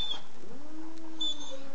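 A cat, Sumato, gives a drawn-out, rising then sustained meow close by against a faint background hum, with no speech over it.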